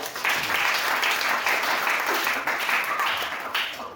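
A church congregation applauding and cheering, a sustained wash of many hands clapping with loud crowd energy, steady for several seconds with a slight rise near the end.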